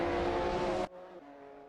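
Race cars in a racing video game, a Shelby Series 1 and a McLaren F1 LM, roar at high revs close by, then the engine noise cuts suddenly to a quieter, lower drone.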